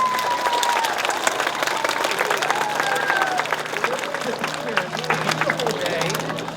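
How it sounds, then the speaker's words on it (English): A round of applause at a celebration, dense continuous clapping from an indoor audience with some cheering and chatter mixed in, steady for several seconds. "Let's give him a round of applause."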